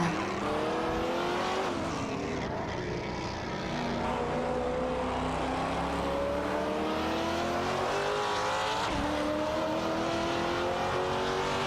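Lamborghini Murcielago SV and Mosler MT900 race cars in an AI-driven racing video game roar continuously, with several engines layered and shifting pitch as they rev and change gear in a tight pack, loud and steady throughout.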